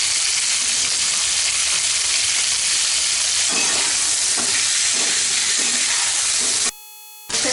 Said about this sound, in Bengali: এবারে এর মধ্যে আমি দিয়ে দেবো টমেটোগুলো